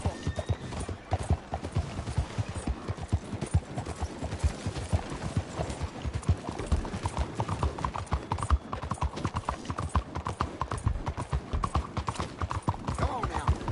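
Horse hooves clop in a fast continuous rhythm while riding in Red Dead Redemption 2, a steady galloping patter with faint background game sounds.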